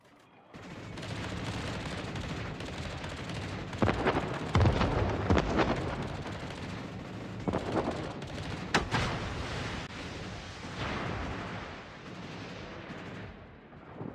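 Naval gunfire in World of Warships, with heavy booming salvos and rolling rumble that run nearly without pause, and louder cannon thumps standing out around the middle.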